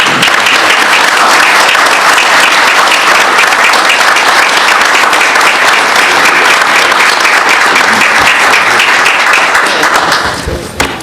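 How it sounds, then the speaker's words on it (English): A city council meeting audience breaks into loud, sustained applause right after a resolution passes, dense clapping holding steady for about ten seconds before tapering off at the end. "I say we ought to start with a round of applause."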